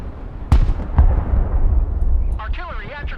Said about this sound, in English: Artillery actually came in quite useful there, so that's good.